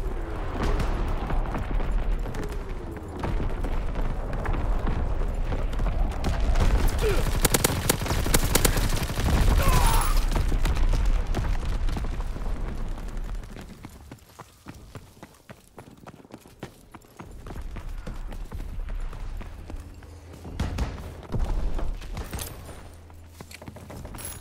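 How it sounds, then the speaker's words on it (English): A division artillery barrage in the Call of Duty: WWII video game, with dense, loud, overlapping blasts and rapid gunfire forming a continuous rumble that eases slightly toward the end. "Firing division artillery."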